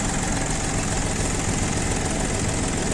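Iseki TU-245 mini tractor with a tiller, engine idling close by: a loud, steady, rough drone that holds without change throughout.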